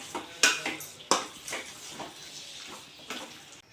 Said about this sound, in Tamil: எல்லாத்தையும் சேர்த்து நல்லா கலந்து விட்டுக்குவோம்